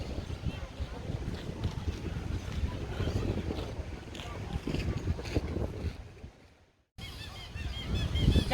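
Seabirds honk and call over a steady wash of wind and waves along the shore, busy and fairly close, with a brief dropout near the end.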